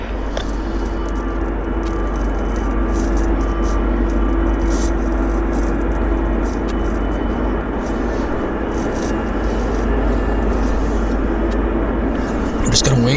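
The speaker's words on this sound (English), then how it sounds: "I'm just going to wait for this aircraft to pull out of the Horseshoe." A steady, loud roar of an aircraft pulling out at Vancouver Airport fills the whole stretch, continuous broadband rumble with a low hum beneath, and talk running over it.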